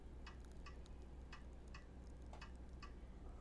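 Seiko Spring Drive 5R65 watch crown hand-wound, giving a steady run of crisp, faint clicks about every half second, close up over low background hum with no talking.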